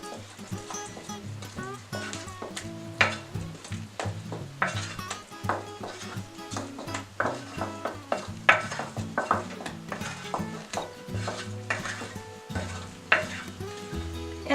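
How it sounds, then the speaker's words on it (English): Butter and sugar being stirred together in a bowl for an off-grid, cast-iron sourdough recipe: steady scraping and clinking of a utensil against the bowl, with busy background sounds and no speech. "I'm going to go ahead and mix these together first."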